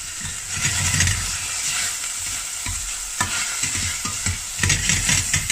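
Spicy tuna soup simmering and sizzling in a pan on a turned-down burner, a steady close bubbling hiss with scattered stirring clatters and scrapes, no talk.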